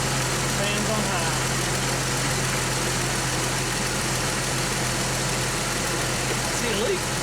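A Jeep Wrangler engine idles steadily with its A/C fans running on high, a constant broadband whir and low hum that holds level and close for the whole stretch, with no voices over it.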